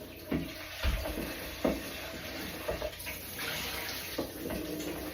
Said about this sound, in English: I'll just fill their bowl up with some fresh water